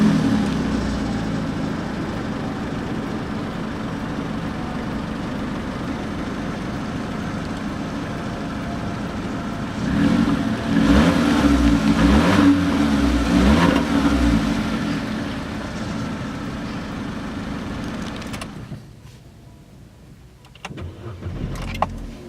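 A 2006–2014 Vauxhall Corsa D 1.2 SXI with a five-speed manual gearbox idles steadily, then its engine rises in a clear rev midway before settling, with a brief quiet stretch and small mechanical clunks near the end.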